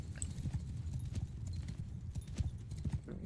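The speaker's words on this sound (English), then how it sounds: "these horse archers are going to be better" Horse archers galloping across a battlefield in Mount & Blade II: Bannerlord, a dense rapid clip-clop of many hooves with an occasional neigh, steady and moderately near, with no speech.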